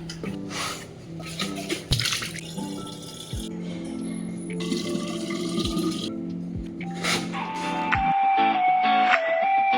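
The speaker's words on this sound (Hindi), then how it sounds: "पहले पानी भर लेते हैं ज़रा।" Water runs from a dispenser into a bottle, a steady rushing stream close by with occasional clunks, the pitch rising toward the end as the bottle fills.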